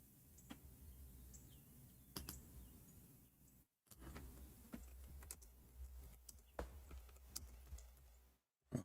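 Keys click on a computer keyboard in irregular bursts, faint and close, with a brief silent gap partway through and quiet room noise underneath.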